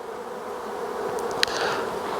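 Honey bees buzz steadily around an opened hive during drone brood removal, a continuous close hum with a few individual bees zipping past the microphone.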